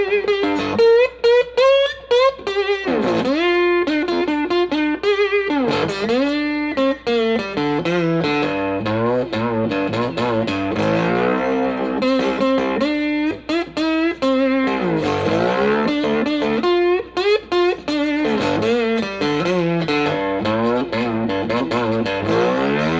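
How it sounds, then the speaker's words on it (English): A crunchy, overdriven slide-style three-string cigar box guitar plays a continuous bluesy riff through a Fender Blues Junior tube amp with a touch of reverb, loud and close, no voices. "let's see what the Fender Blues Junior sounds like set up like that"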